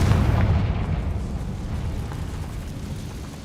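A Confringo spell explosion in Hogwarts Legacy, a heavy rumbling blast that starts loud and slowly fades into a low, dense roar.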